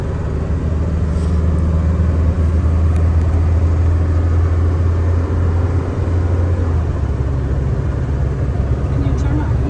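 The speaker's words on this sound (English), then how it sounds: "Give it some gas. It'll go 55 up this hill." A box truck engine drones loudly as it accelerates up a hill, a steady low rumble with road noise heard from inside the cab, easing slightly toward the end.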